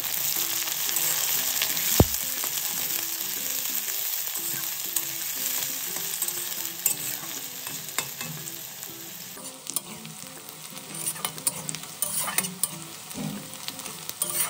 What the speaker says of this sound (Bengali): এরপর আমি তেলের মধ্যে পেঁয়াজ কুচিটা দিয়ে দিলাম।